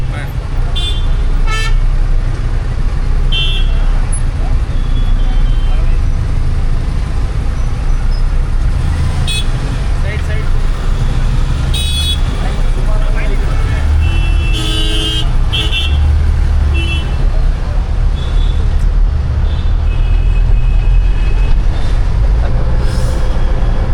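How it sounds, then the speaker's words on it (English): Busy road traffic during a snake rescue in India, a constant engine rumble with scattered horn toots and beeps near and far, people talking in the background. "Okay, the whole road was blocked. We just cleared through the traffic."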